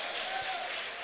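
A church congregation applauds during a sermon, giving a dense, steady wash of clapping with a voice faintly present beneath it.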